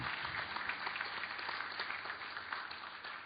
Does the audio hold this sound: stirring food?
no